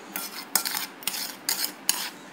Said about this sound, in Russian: Теперь все перемешиваем.